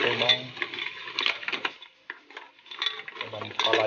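Mussels and tomatoes are stirred in a cooking pot, with utensil scrapes and clinks against the pot over a light sizzle, in short uneven strokes.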